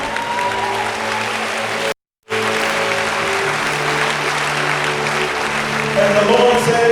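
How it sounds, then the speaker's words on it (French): A church congregation claps in praise of the Lord, dense steady applause with a brief silent break, then loud clapping resumes and swells toward the end, with no clear voices. "Give a clap to the Lord."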